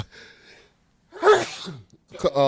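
A single loud, close human sneeze, with a short breathy intake and then the explosive burst, comes between snatches of speech before and after it.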